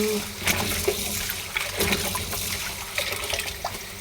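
Tap water runs and trickles steadily while grapes are washed, with intermittent splashes and handling noises close by.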